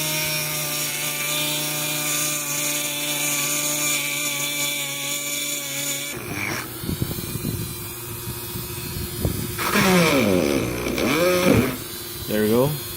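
A Dremel rotary tool drills into a spondylus shell bead, its high whine steady at first, then broken by grinding bursts and rising and falling pitch sweeps as the speed changes, with talk alongside.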